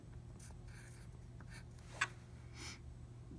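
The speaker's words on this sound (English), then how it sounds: "And we're going to write that number down." A pen or pencil writes a number on paper, a faint, brief scratch that stands out once over a steady low hum in a quiet room.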